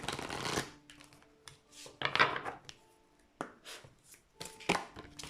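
Fairy oracle cards being shuffled by hand, a run of soft papery riffles and slaps in uneven bursts, close and fairly quiet, with no voices.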